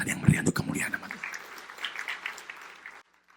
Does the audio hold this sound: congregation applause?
yes